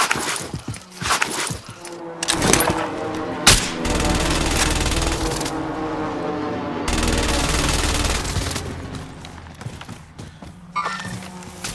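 Machine gun fire in Call of Duty: Warzone Pacific, scattered close shots followed by long sustained bursts of rapid automatic fire with short pauses between them.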